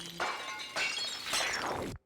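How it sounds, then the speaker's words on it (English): Glass shatters three times in quick succession in Breath of the Wild while an elixir is being cooked, each bright crash loud and close, then cutting off abruptly. "That one had breaking glass noise, so not good."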